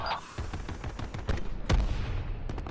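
Sniper rifle fire in the video game Black Ops 4, a few sharp gunshot cracks amid quieter game effects, fairly faint overall with one heavier blast near the middle.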